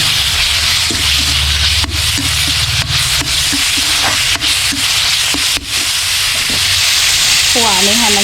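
Pork hits a hot pan after aromatics and is stir-fried at a Lao market cooking setup, giving a steady loud sizzle with scraping and rubbing strokes throughout, a brief voice at the end.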